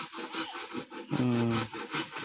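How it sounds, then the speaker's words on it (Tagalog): Hand sawing through wood, a few back-and-forth strokes with a rasping scrape, close and clear, one stroke louder and more tonal than the rest. "Lagaring-lagari siya."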